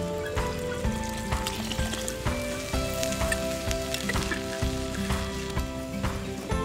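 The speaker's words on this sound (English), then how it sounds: "So I have some homemade chicken stock here that I'm gonna add." Homemade chicken stock pours into a chili pot over a campfire outdoors, giving a steady, close splashing and trickling wash that runs for several seconds without a break.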